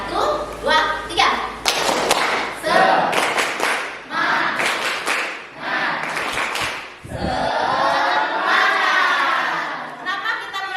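A class of children performs a rhythmic spirit-clapping routine, with sharp, patterned claps and thuds in quick bursts, mixed with loud young voices chanting and calling out in between.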